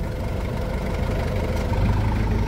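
A 1997 Toyota SW4 diesel pickup engine runs steadily at about 2,500 rpm while cruising near 100 km/h, a continuous loud low drone with a slight knocking diesel texture and road rumble throughout.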